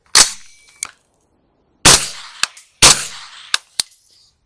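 Three sharp, loud shots from a suppressed 5.56 rifle, spaced about a second apart, each followed by a metallic clack and brief ring, close by.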